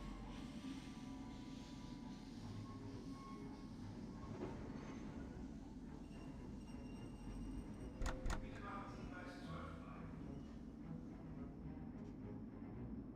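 Train at a station in the video game Medal of Honor (1999): a steady low rumble of rolling rail cars with brief metallic clanks, continuous and moderately loud throughout.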